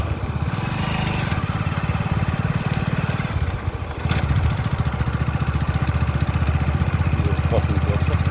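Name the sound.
motorcycle engine on rough road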